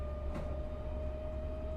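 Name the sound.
train running in a train simulator video game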